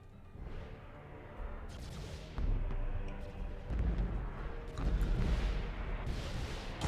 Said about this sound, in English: 4 Nova Cannons to fire